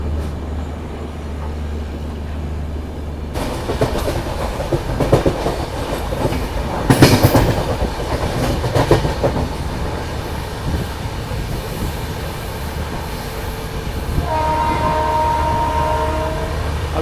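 An Amritsar Swarn Shatabdi Express rolls slowly over a bridge past ongoing track work, with steady rumbling and clickety-clack of the wheels on the rails throughout, a louder surge of wheel noise midway and a faint tonal whine near the end.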